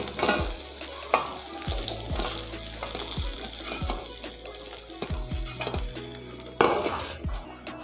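Okra (bhindi) frying in a pan, crackling sizzle broken by repeated clanks and scrapes of a spatula against the metal.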